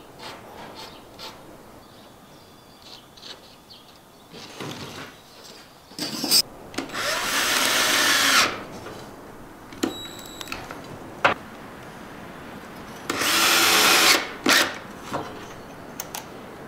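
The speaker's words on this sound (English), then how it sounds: "I'm really glad I influenced you to buy the better drill. It's so fast" A power drill bores through the wall of a school bus being converted, giving two loud, sustained grinding bursts a few seconds apart, with scattered clicks and handling knocks between them.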